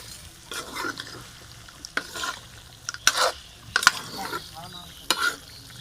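Duck meat fried in its own rendered fat, a faint sizzle under intermittent stirring scrapes and clanks of a utensil against the pan, spaced a second or so apart, no talking.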